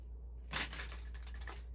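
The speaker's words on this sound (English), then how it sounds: "Cards that don't want to shuffle." Tarot cards being shuffled, a quick burst of riffling and flicking that starts abruptly and runs for just over a second against a low hum.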